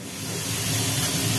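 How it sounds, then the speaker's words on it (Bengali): Ridge gourd, pumpkin and potato hit hot oil over frying vegetable stalks, giving a loud, steady sizzling hiss that holds unbroken throughout. "ডাঁটা ভাজার উপরে পড়ে গেছে ঝিঙে, কুমড়ো, আলু।"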